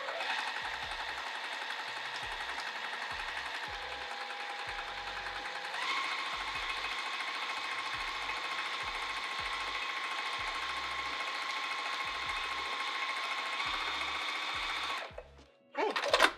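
A sewing machine stitches a quilted under cover, running steadily for about fifteen seconds with a slight shift in pace partway through, then stops with the needle down as handling noises follow.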